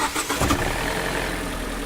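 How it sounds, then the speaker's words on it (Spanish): A car with a smart-charging alternator fault (code P0625) cranks briefly and catches, then settles into a steady, close idle. "Ahí acabamos de prender el motor"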